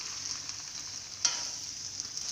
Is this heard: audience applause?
no